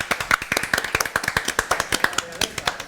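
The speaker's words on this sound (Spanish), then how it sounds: "Aplausos." Live audience applause at a Spanish talk show, a dense run of sharp hand claps, loud and close, sustained throughout without pause.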